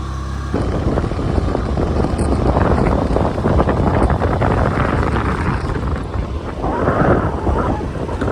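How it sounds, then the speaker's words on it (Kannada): Steady gusting wind buffets the microphone on an open hilltop, a continuous loud rumble with swells in strength, especially near the end, and no voices. "ಮತ್ತೆ ಇಲ್ಲಿ ಗಾಳಿ ಸ್ವಲ್ಪ ಚಳಿ ಆಗಿದೆ"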